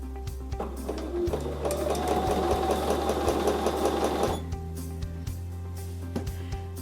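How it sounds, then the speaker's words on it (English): A domestic sewing machine runs steadily for about three seconds as it stitches a quarter-inch seam on a charm-pack quilt table runner. Its rapid mechanical whir is loud and close, followed by scattered clicks and small thumps from handling. "I'm going to position the 1/4 inch edge of the sewing foot on that line, and then I'm going to start sewing"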